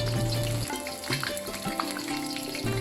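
Dry red chilies sizzle in hot oil in a pan, a dense, steady crackling fry with small pops and a stir, close and continuous with no talk.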